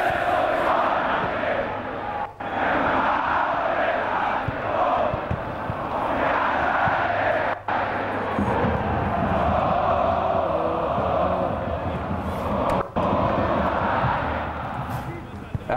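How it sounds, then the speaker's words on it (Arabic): Al Ahly football supporters chant in a packed stadium, a loud, continuous roar of massed voices rising and falling in rhythmic waves with no break. "احلى هتافات جماهير النادي الاهلي"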